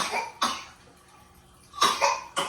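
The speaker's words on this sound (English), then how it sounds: "You hear her coughing." A sick child with an ear infection coughs nearby: one cough, a pause, then a quick cluster of three raspy coughs.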